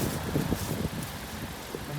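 A 2019 Honda Accord Sport 1.5T with muffler and resonator deleted and quad tips rolls slowly into a driveway, its low, throaty engine rumbling close by under people talking.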